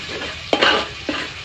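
Fried onions and pistachios are stirred together in a pan for a Shab-e-Barat dish, with two quick scraping strokes of a spoon over a faint sizzle, close and clear with no voices.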